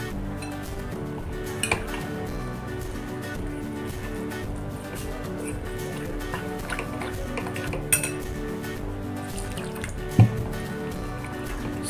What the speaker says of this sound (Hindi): इसमें डाल के थोड़ा थोड़ा पानी डालेंगे।